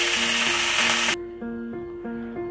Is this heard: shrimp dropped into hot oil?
yes